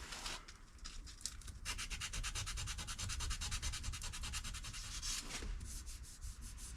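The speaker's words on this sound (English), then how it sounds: "I'll move on to the 240 now that I've got the worsted off, and then just feather that in even more." A car alloy wheel hand sanded with 240 grit sandpaper at home, a steady fast back-and-forth rasping of close, even strokes that continues almost without pause.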